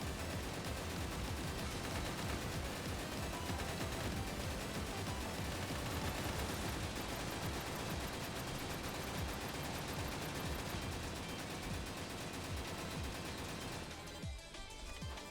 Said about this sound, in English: machine guns seem to be pretty good for these anti-air type of missions